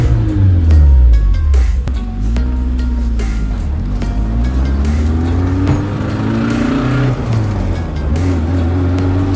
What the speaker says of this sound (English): I shifted up to go second. You know why? Because this is a dogleg transmission.